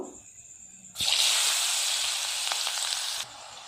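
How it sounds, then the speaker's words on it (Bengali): Onions dropped into hot oil left from frying potatoes, bursting into a loud hissing sizzle after a quiet moment, holding steady for about two seconds before easing back down. "এবার ওই গরম তেলে আমি এই পেঁয়াজ দিয়ে দেবো, ভেজে নেব।"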